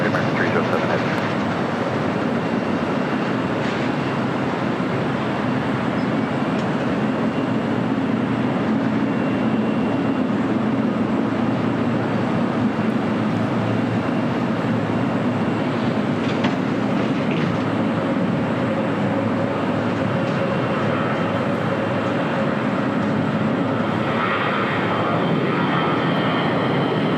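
An American Airlines jet takes off from runway 25 right at LAX, a steady, loud engine roar filling the whole stretch with radio voices talking over it.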